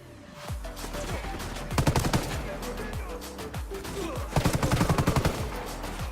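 Rapid automatic gunfire in Ghost Recon Wildlands, a loud, dense stream of shots from a light machine gun such as the MK249 or Stoner A1, with two sharper, heavier bursts standing out over continuous battle noise.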